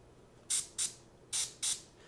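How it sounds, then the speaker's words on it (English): Aerosol spray paint can sputtering through a partly clogged nozzle, four short hissing bursts in quick pairs, close and crisp against a quiet background. "I'm pushing down on my air, and it's spraying paint out"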